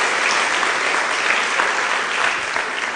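A church congregation applauds in praise, a dense, steady wash of many hands clapping close by, sustained and even for the whole stretch with no voices standing out.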